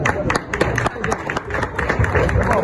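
Children and adults at a school in Kinshasa applaud, dense overlapping claps with crowd murmur, fairly loud and close, swelling and dipping over a few seconds.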